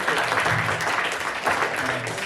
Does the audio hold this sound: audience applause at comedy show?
yes